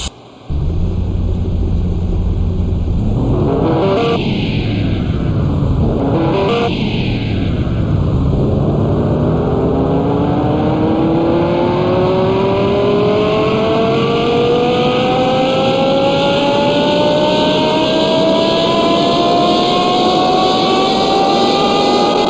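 A Lamborghini Gallardo with a V10 engine accelerates hard and loud, the engine note climbing through a couple of quick gear shifts and then rising steadily in one long continuous pull at close range.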